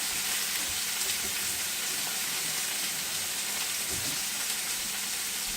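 Deer steaks sear in hot butter in a pan, a steady, loud, dense sizzle and crackle that holds evenly throughout.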